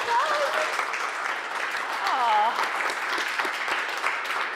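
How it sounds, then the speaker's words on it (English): Audience applause at an award ceremony for social purpose marketing, a steady crowd of clapping hands sustained throughout, with faint voices and a whistle-like tone rising briefly over it. "Let's give a round of applause."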